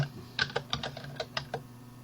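Quick clicks of keys being struck on a computer keyboard, a short burst of about ten taps at an uneven rhythm, close and fairly quiet.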